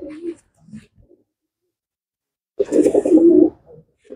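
A top-breeder racing pigeon from Chennai, kept in a loft, coos in short low bursts: a brief coo at the start, faint murmurs, silence, then a louder, throaty rolling coo near the mic.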